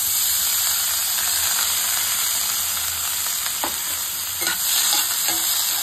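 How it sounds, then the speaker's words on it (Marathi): Corn kernels frying and being stirred in melted butter in a pan, a loud continuous sizzle with scraping stir strokes and small crackles toward the end, no voices. "बटर मध्ये चांगले आता कॉर्न ही फ्राय करून घ्यायचे।"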